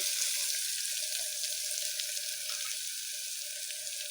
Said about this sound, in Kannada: ಸ್ವಲ್ಪ ಎಣ್ಣೆ ಚೆನ್ನಾಗಿ ಬಾಡಿಸ್ಕೋಬೇಕು ಚೆನ್ನಾಗಿ ಫ್ರೈ ಆಗಲಿ